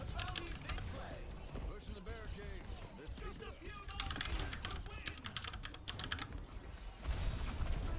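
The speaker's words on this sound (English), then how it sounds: "I am adding random keyboard noises onto this" Computer keyboard typing clatters steadily throughout, layered over ongoing talk and gaming sounds, with busier bursts of keystrokes near the middle and end.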